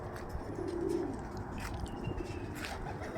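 Pigeons coo softly at a home loft during a 600 km Kirkuk racing event, low murmuring calls under a hazy outdoor background with a few faint higher chirps.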